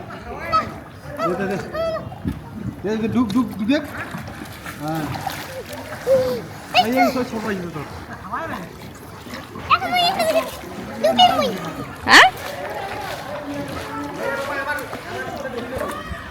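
A child splashing about in a swimming pool at a park, water slapping and splattering in bursts, with children's voices and adult talk mixed throughout.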